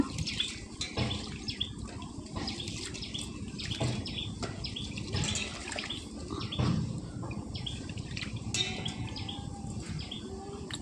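Soaked lentils and rice are washed by hand in water, with continuous splashing, trickling and swishing close by, and birds chirping in the background.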